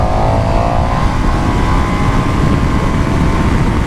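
KTM 1290 Super Duke R 2020 motorcycle engine revs loud and close, a steady throaty drone with rising harmonics throughout, no voices.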